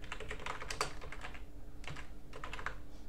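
Terminal commands are typed on a computer keyboard during a Linux installation, with quick bursts of close key clicks, a short pause, then more clusters of tapping.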